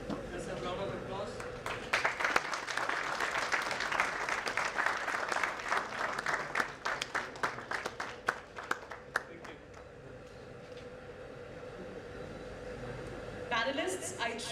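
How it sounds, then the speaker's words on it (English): Audience applause at a startup summit in Central India, a broad wash of clapping from a sizable crowd that swells, then thins to scattered claps before fading near the end, with a brief burst returning at the close. "Just a round of applause."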